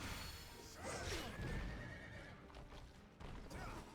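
A horse neighs and whinnies in a Wo Long: Fallen Dynasty boss fight against Lu Bu, the call rising over dense battle noise and rumble, fairly loud throughout the short stretch.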